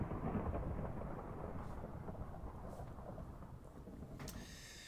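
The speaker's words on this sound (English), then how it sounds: "rain is very present in this mod" Steady rain with rumbling thunder fills a Minecraft modded game world, a dense, continuous hiss of rainfall with a low roll of thunder near the start and a faint sharper crack near the end, quiet and without voices.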